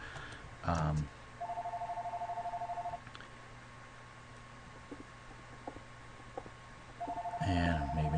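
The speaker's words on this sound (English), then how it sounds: "my phone is ringing" A house telephone rings indoors in two steady electronic trills, separated by a quiet gap, with brief thumps and faint background noise around them.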